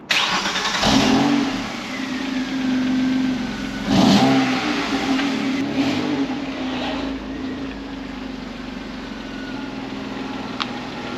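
A V6 Chevrolet Cavalier engine revs and accelerates on a drive, loud and close, with swelling surges around the first and fourth seconds before it settles into a steady cruising drone under road and cabin noise.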